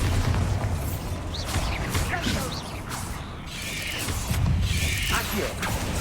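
A Bombardo explosion spell goes off in the Hogwarts Legacy video game, a loud, dense blast with crashing, mechanical debris that rolls on for several seconds amid other game noise, peaking again near the end.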